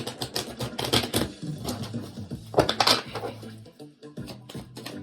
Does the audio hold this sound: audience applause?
no